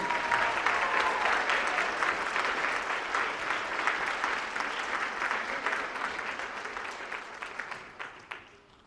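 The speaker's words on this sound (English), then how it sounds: "I think they need one more round of applause." A school concert audience at a middle school fall band performance breaks into a full round of applause, steady dense clapping that gradually tapers off toward the end.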